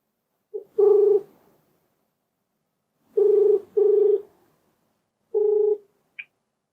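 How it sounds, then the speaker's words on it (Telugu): A telephone dials out during a televised talk program: short electronic tone bursts, one then a pair then another, clear and isolated against silence, ending with a brief higher blip. "ఒకసారి కాల్ చేస్తానండి."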